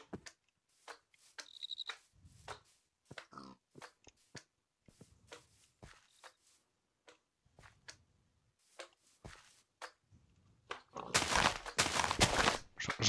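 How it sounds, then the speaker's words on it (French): Squishy wet bouncing of a slime in the Minecraft video game, several soft irregular squelches, quiet and scattered, followed by a louder noisy burst at the end, with no talking. "J'entends un slime là."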